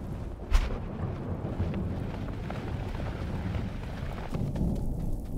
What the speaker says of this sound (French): Ouais, j'entends l'orage.